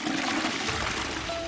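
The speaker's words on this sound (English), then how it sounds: "releasing the first dual-flush toilet, the Duo set" A Caroma Duoset dual-flush toilet flushes with a brief, loud rush of water and gurgling, close and dense for over a second with no talk.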